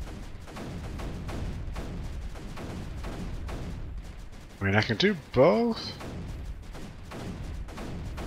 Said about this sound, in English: Multi-purpose cannons.